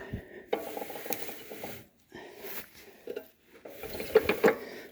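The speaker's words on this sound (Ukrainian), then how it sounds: "цей вал крутиться" Mechanical clicking and ratcheting from the rotating shaft of a broken mower being checked in a field, several bursts of close clinking and rattling separated by brief pauses.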